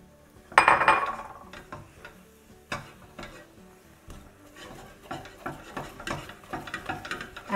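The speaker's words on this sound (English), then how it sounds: "give it a good mix" A spoon stirs melted dark chocolate into a chocolate coconut pistachio laddoo mixture in a pan, starting with a sharp clink and moving into steady, irregular scraping and tapping strokes, close and alone.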